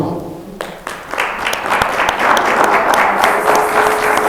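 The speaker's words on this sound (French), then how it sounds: "Pouvons-nous applaudir pour le Seigneur?" A church congregation claps steadily and loudly for several seconds, the applause building quickly and holding at full strength throughout.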